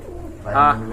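A single throaty coo from a pigeon in a collection of pet pigeons, near and clear, rising briefly over a low background hum.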